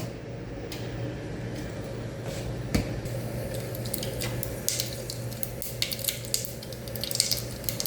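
A spoonful of mustard seeds in hot oil sizzles steadily, with scattered sharp pops and crackles growing more frequent toward the end, close and fairly quiet.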